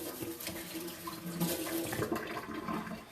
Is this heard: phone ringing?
no